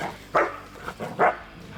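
A farm dog of a working breed barks a few times in short, irregular bursts at movement along the boundary, moderately close, with quiet gaps between barks.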